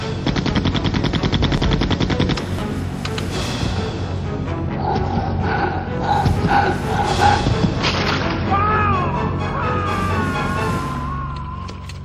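Rapid automatic gunfire from the Nintendo 64 version of Resident Evil 2, a dense loud burst of repeated shots for the first couple of seconds, then continuing game action with sirens, wailing tones and creature noises mixed under a shouting voice.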